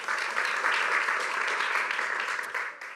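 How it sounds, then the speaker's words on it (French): Audience applause for a quiz contestant at a live company event, with a dense round of clapping from a modest crowd at a steady level that tapers off at the end. "Bravo, on peut l'applaudir encore une fois, c'est tout bon."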